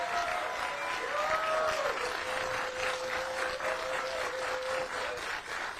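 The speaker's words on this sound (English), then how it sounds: "So a round of applause for everybody coming out today." Crowd applause at a live stream event, a continuous even wash of clapping with faint cheering or whistling tones above it, holding steady for several seconds.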